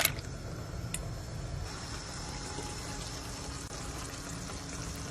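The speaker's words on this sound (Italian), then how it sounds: "Adesso buttiamo nell'acqua salata i nostri rigatoni." Rigatoni tipped into a pot of boiling salted water, giving a steady close rushing, bubbling wash with a light splash at the start, no voices.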